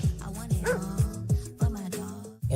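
A dog at a dog park barking in a quick, regular string of sharp, close barks about half a second apart, loud and with no talking over them.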